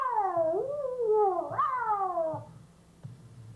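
A human voice imitates a cat, giving a drawn-out meow that bends up and down in pitch, followed by a second rising, wailing meow, loud and close with faint thumps beneath.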